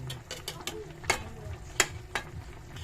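Pieces of tuna fish cook in coconut milk with pechay and kangkong, sending out a soft bubbling and sizzling punctuated by several sharp utensil clinks against the pot, close and without talk.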